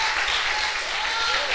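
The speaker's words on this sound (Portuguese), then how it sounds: "Vamos aplaudir o nome do Senhor." Church congregation applauding together, a steady dense wash of clapping throughout, with some voices mixed in underneath.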